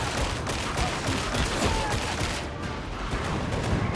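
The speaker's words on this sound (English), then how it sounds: "What are the AA guns shooting at?" Anti-aircraft guns fire in Warhammer 40,000: Darktide, with dense, continuous volleys of booming shots that keep up without a break and stay loud throughout.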